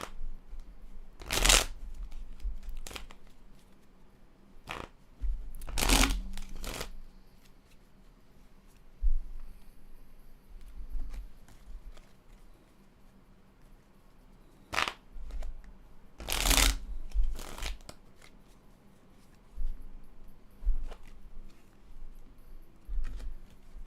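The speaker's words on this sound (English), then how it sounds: "I'm going to see what the cards have to say about the 23rd" Tarot cards are shuffled in several short bursts of riffling and sliding, a few seconds apart, with quiet handling noises between them and no talking.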